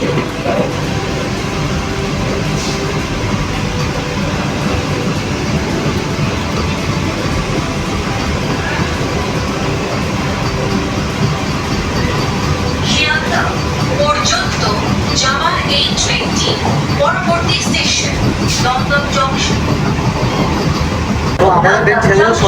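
A new AC local train pulls out of Sodepur, Kolkata, with a constant loud rumble and wheel noise inside the carriage and bursts of rhythmic rattling later on. People talk throughout.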